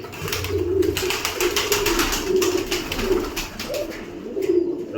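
Several pigeons coo in soft, repeated low phrases from nearby, layered over one another with faint background chirps and no talking.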